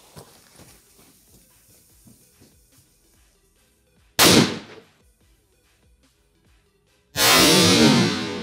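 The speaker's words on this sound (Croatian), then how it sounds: "Kao što ste čuli, to je bio Super TNT" A Super TNT firecracker goes off as a loud, sharp blast with a short ringing decay. A second powerful boom follows a few seconds later and sustains to the end. Quiet faint clatter fills the gap beforehand.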